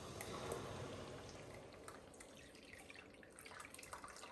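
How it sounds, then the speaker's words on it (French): Water in a pot coming to the boil for millet porridge, a steady low bubbling and simmering hiss with scattered small pops and drips, fairly quiet and continuous throughout, with no talking. "Et voilà, l'eau commence à bouillir maintenant."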